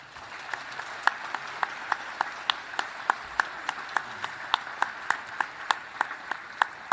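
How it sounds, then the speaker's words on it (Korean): A large audience in a formal ceremony hall claps for the bereaved families of Constituent Assembly members. The applause runs steadily throughout, with sharp individual claps standing out on a regular beat above a dense bed of clapping. "여러분, 재원 의원 유족회에 큰 박수 부탁드립니다"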